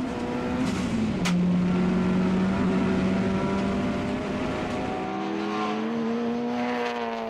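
A tuned car making close to 500 horsepower at the wheels, its engine droning loud and near with a steady harmonic tone that shifts in pitch as the revs change, with no talk over it.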